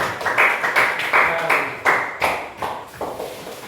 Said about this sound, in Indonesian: silakan kita berikan tepuk tangan untuk kelompok 3 ya